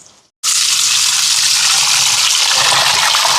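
Water gushes loudly and steadily from a tap onto keeri samba rice being washed, starting abruptly after a brief quiet moment and running on without a break.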